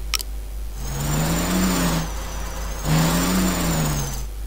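A red toy car's engine revs twice in a children's PC game, each rise and fall of a mid-pitched motor whine lasting about a second, loud and close, with no voices.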